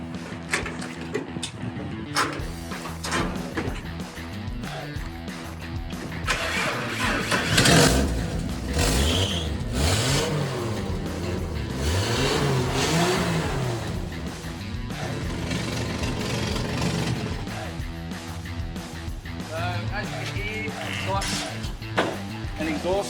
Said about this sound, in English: So try and start this truck up now and see if it starts.